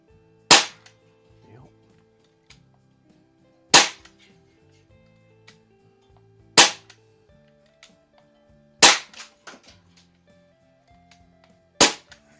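A BB gun is fired at a can five times, each shot a sharp, loud crack spaced about three seconds apart, with faint small clinks and quiet gaps between.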